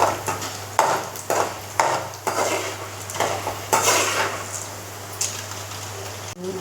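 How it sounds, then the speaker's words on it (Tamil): Chana dal and urad dal roasting dry in a pan bring a series of irregular metallic scrapes and clinks from stirring, close and fairly loud, over a low steady hum for several seconds. "இப்போ வந்து கடலப்பருப்பு, உளுத்தம்பருப்பு எல்லாம் எடுத்து வச்சுக்கிட்டிங்களா, அதை எல்லாமே போட்டு வறுத்துக்கணும்"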